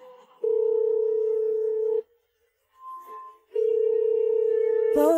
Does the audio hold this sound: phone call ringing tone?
yes